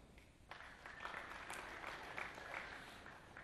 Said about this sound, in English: Give me an applause.